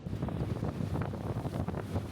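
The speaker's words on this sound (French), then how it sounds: "Un vent, mais mon Dieu, c'est atroce." Strong wind at Bergen roars and buffets the microphone in continuous heavy gusts, a dense rumbling rush throughout with no voices.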